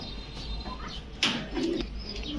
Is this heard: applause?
no